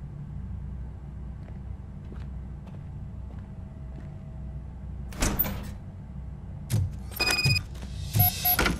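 A heavy sliding door in the video game Robocop: Rogue City grinds and clanks open in a few short mechanical bursts over a low ambient rumble, with faint footsteps before it.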